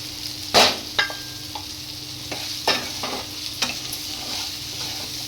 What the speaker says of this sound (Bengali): এগুলো দিয়ে আমি সব কিছু দিয়ে ভালো করে কষিয়ে নেব।